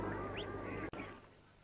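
Ducks give a few faint quacks at some distance over a soft background hum, in a short outdoor stretch.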